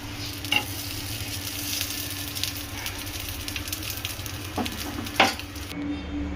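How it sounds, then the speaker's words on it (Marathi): Soya corn tikkis pan-roast on both sides, giving a steady low sizzle with a soft hum beneath it and a couple of sharp clinks of a utensil against the pan, one louder near the end. "अशी दोन्ही बाजूनी छान खरपूस भाजून घ्यायची आहे आपल्याला टिक्की"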